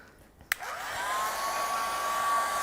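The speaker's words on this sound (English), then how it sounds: "So we're going to heat emboss this now." A heat embossing tool blows hot air over a craft project, starting with a sharp click and then settling into a steady, close, whooshing roar with a faint high whine that holds to the end.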